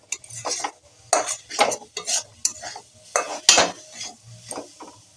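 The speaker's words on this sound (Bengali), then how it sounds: "এবার এই সুজিটাকে একবার দুবার এর সাথে নেড়ে নেব।" A spoon scrapes and stirs semolina in a pan in uneven strokes, close and clear, with metallic scraping and faint sizzling between the strokes.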